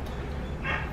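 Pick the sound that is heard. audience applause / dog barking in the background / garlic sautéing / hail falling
dog barking in the background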